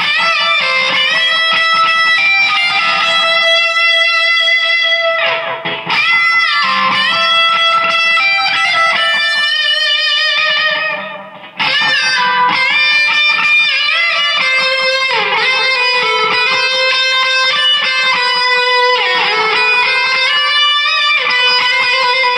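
An electric guitar plays a sustained, singing lead solo through a NUX MG-100 multi-effects unit, with long bent notes and fast runs, loud and continuous apart from two brief pauses.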